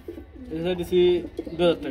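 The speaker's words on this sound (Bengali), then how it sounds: "প্রচুর পরিমাণে ডাকে না, খুব সুন্দর ডাকে বন্ধুরা" A big-sized pair of pigeons, a male and a female, coo nearby in a few soft, throaty rising and falling calls over about two seconds, with faint background noise beneath.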